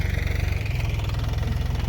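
A steady, low tractor engine chugs with a regular pulsing rumble, close by and continuous as it approaches, with no voices.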